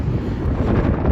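Wind buffets the microphone in a low, steady rumble on the coast at Dakhla, with dense gusty roaring throughout the short moment.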